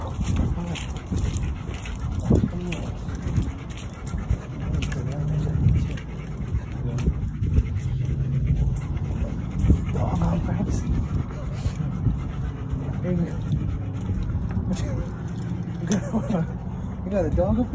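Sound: Belgian Malinois dog whimpering and panting

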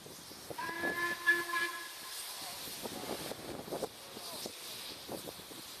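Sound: steam whistle of LMS steam locomotive 5699 Galatea

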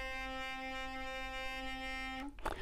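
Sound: electric toothbrush vibrating

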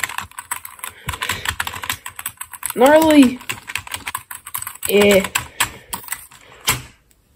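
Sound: typing on an RGB gaming keyboard

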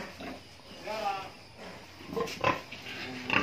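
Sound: pigs grunting on a farm

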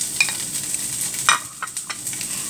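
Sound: onion frying in olive oil

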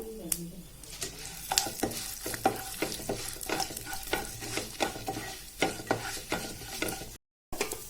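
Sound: sautéing chana dal and urad dal in a pan

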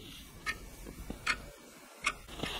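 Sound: clock ticking sound played on a mobile phone at low volume

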